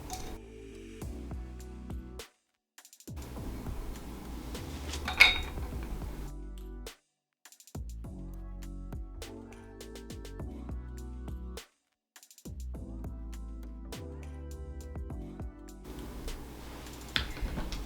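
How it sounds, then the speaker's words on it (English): An electric wine opener works on a wine bottle, giving a faint mechanical whir in several short bursts split by brief silences, with small clicks and a clink. It is heard close and quiet, and no one talks. "it's an electric wine opener"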